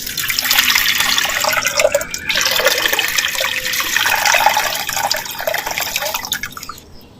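Two litres of fresh water are poured into a clay pot for country chicken rasam, making a steady, close, loud splashing stream that fades out at the end.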